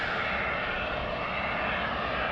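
Airplane engine roaring steadily at close range as the aircraft takes off from runway 35 at Salt Lake City International Airport, a loud continuous broadband rumble with no voices.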